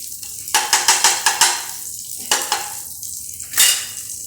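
Ghee going into a hot pan for cooking, with a run of sharp spatula clinks and scrapes against the pan, a pause, then a few more scrapes and a loud final hit, all fairly close with no talking.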